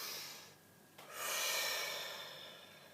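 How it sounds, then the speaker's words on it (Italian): A single deep breath drawn in by a speaker pausing before a tarot reading, a soft airy inhale swelling after a quiet moment and then slowly fading out, close and alone with no talking. "facciamo un bel respiro profondo"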